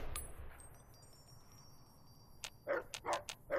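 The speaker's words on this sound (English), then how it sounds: "Barking at me." Rex, the companion dog in Fallout New Vegas, barks in a short burst of about four or five sharp barks near the end, after a quiet stretch with faint game ambience.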